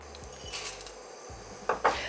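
Ginger and pine nuts dry-roasting in a pan over medium heat, stirred with light scraping and a couple of sharp utensil knocks against the pan, quiet and close, with no talking.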